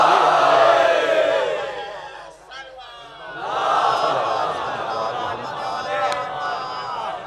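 An audience at a religious gathering chants slogans loudly in unison, a swelling crowd roar that dips briefly and rises again with overlapping voices.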